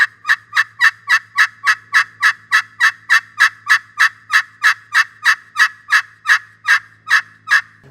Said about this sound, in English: They start out maybe with a plain yelp.